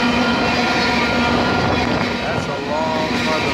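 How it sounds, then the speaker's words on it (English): A long train rolls past close by, a steady loud rumble and rattle of wagons with a faint whine above, continuing throughout while someone talks over it. "This is a long ass train, too."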